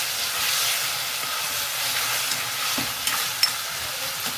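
Cooked mushrooms with soy sauce stirred in a pan, a steady soft hiss of gentle sizzling with a few light scrapes and taps of the utensil near the end, close and fairly quiet.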